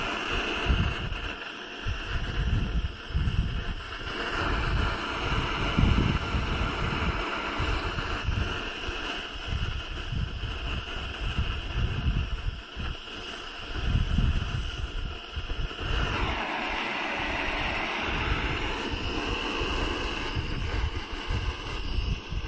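Wind gusts roar across a microphone in an open-sided workshop during a first attempt at soldering, a continuous low rumble surging and easing throughout with no talking.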